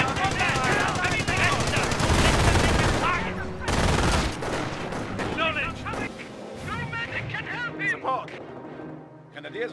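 Rapid machine gun bursts and heavy gunfire crackle through a video game battle, dense and loud at first, then thinning into scattered shots with voices calling out underneath.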